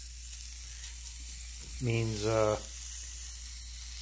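A preheated cast iron pan sizzles, a continuous bright hiss running throughout, with a brief spoken word in the middle.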